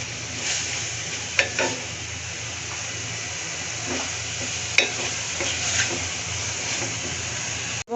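Carrots frying in a pan for a red pasta sauce, a soft continuous sizzle with occasional sharp spatula scrapes and stirring clicks.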